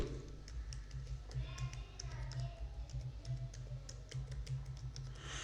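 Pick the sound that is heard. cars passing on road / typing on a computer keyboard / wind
typing on a computer keyboard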